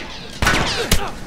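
Gunfire in The Last of Us Remastered, two sharp close shots about half a second apart with ringing tails, loud against a quiet game background, a voice faintly under it.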